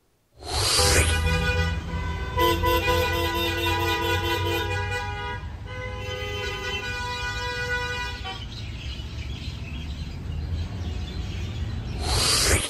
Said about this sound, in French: On klaxonne pour n'importe quelle raison.